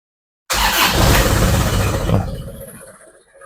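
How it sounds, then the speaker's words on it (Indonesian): A 2013 Isuzu Panther Grand Touring starting from cold: the engine catches abruptly and settles straight into a steady, loud idle close to the listener, with no talking. "Kondisi mesin dingin di starter langsung stasioner ya."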